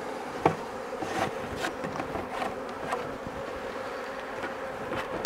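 Honey bees buzz in a dense, continuous drone while being brushed out of a box during a hive transfer, with a few sharp knocks and taps scattered through.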